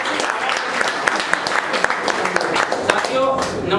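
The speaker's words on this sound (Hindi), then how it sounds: "इसके लिए एक बार जोरदार तालियां इसके लिए" Audience clapping and applause at a leaders' training session, a steady dense patter of many hands with a few sharper claps, under a voice speaking over it.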